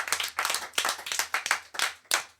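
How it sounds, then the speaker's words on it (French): A studio audience at a French television game show claps in quick rhythmic bursts, loud and close, with no voices over it. "Maître Connard, qu'on peut applaudir."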